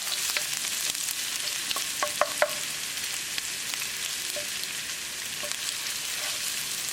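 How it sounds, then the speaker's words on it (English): Garlic and ginger sizzling in hot olive oil in a pan, a bright, steady crackle with small clicks and scrapes of stirring, close and continuous without talk. "Once the oil starts to heat up, add garlic and ginger. Mix it."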